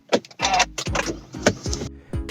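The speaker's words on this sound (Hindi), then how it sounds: "पहले गाड़ी को हम स्टार्ट कर लेते हैं एक बार।" A Mahindra XUV300 W8 SUV engine cranks and starts up close, with brief starter bursts and mechanical clatter over about two seconds.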